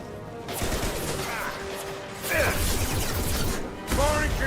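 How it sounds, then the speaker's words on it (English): Concussive shot weapon firing in Mass Effect 2, heard as sharp concussive blasts amid dense combat noise and gunfire, with a voice talking over parts of it. "Firing concussive shot."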